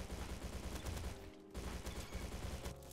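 FAMAS rifle in Roblox Bad Business, fired in fast automatic bursts at close range, a dense rattling stream with a short pause partway through, then more shots and a slight tail-off, no talk.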